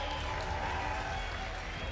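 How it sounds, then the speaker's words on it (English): Audience applause at the National Arts and Culture Awards ceremony, a dense, even roar of clapping from a large crowd heard for a couple of seconds without a break. "Give a round of applause, ladies and gentlemen."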